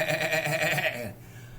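A farm-animal sound book plays a loud electronic goat bleat, a wavering, buzzy call that lasts about a second before cutting off into quiet room noise.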